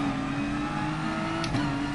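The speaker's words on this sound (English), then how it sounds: "He's revving maximum" Race car engine in the GT Sport video game held at maximum revs, a steady loud continuous drone with a brief flutter near the end, no talk over it.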